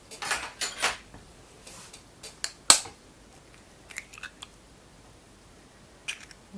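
An egg is cracked and added into fish batter for frying pollock in a village kitchen, giving a few close clinks and taps of shell on a bowl, then a sharp crack and scattered light utensil clicks.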